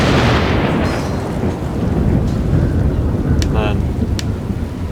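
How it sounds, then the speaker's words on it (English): Rain and thunder weather in the strategy game Pharaoh: a loud, heavy rolling rumble over steady rain hiss, with someone speaking briefly over it. "the rain's coming back"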